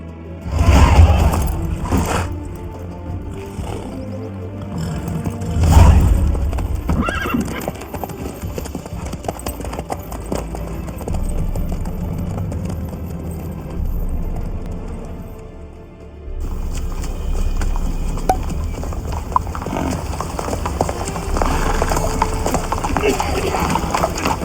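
Horse hooves clip-clopping at a steady pace in The Witcher 3, with a couple of louder thumps and a possible neigh, running continuously beneath conversation between two characters.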